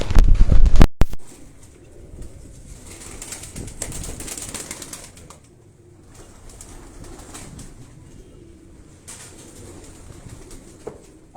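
A pet pigeon, a tumbler kept on a rooftop loft, gives a sharp flurry of flapping wings up close, followed by soft intermittent cooing and quiet rustling.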